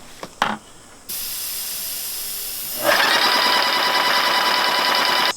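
A paint sprayer spraying fence stain: a click, then a steady loud hiss that starts and grows stronger and denser as the spray comes through. It runs continuously for several seconds before cutting off.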